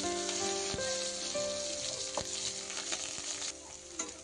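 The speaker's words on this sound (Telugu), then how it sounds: "ఆనియన్ ఇవన్నీ వేసి ఫ్రై చేస్తాం." Green chillies and onions sizzle and fry in hot oil in a pan, with a steady close crackle and occasional stirring scrapes and no speech.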